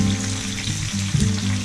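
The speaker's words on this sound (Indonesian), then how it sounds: "tumis dia ini separuh masak saja, cukup nampak dia macam layu-layu" Ingredients sautéing in a hot pan for a grilled fish dish, a steady loud sizzle with brief stirring scrapes, close and continuous.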